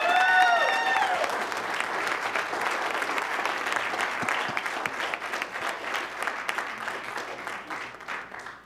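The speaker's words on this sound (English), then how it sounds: "Mr. Boos, let's give him a round of applause on his way up, please." Audience applause fills a city council meeting in Oxnard, a steady dense clapping that holds for several seconds after a brief tonal chime at the start, moderately loud and without speech.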